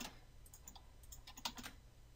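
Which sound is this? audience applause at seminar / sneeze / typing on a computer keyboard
typing on a computer keyboard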